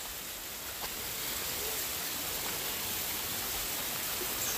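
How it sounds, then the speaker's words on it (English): Bath Waterfall in Barbados: a constant, dense roar of falling water, steady and loud, filling the space with no talk. "this is what we call the Bath Waterfall."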